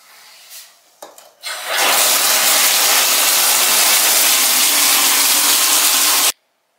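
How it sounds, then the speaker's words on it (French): A home shower is turned on after a few clicks and thumps, then a steady, loud, dense hiss of running water holds for several seconds before it cuts off abruptly. "Je vais aller prendre une douche parce que je ne peux plus me supporter."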